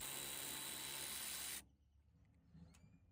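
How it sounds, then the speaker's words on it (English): A power drill whirs loudly for about a second and a half removing a tailgate bolt on a Chevrolet Silverado pickup, then stops abruptly, leaving faint clicks and rustling. "I'm going to be using the drill to make it a lot faster"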